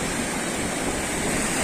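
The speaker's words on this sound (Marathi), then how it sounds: "त्या सगळ्या वाळूवरती लाटा येते." Ocean waves wash up onto a sandy beach at a calm village shore, a continuous broad rushing roar of surf heard up close with no voices.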